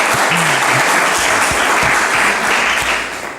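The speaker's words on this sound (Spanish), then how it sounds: "Un aplauso, por favor, para este hombre." A room full of people bursts into loud, dense clapping for a man collecting his ribbon at a retro computing fair talk, sustained and even throughout before easing slightly at the end, with a faint low murmur beneath.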